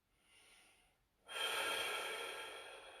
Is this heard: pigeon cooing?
no